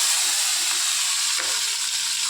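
Fish heads fry in hot oil in a wok with a loud, continuous sizzle and hiss, steady throughout with no talking.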